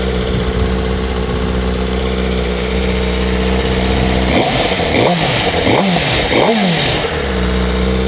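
A 2027 Suzuki GSX-R1000R sport motorcycle idles with a steady low rumble, then gets a series of quick throttle blips that rise and fall before settling back.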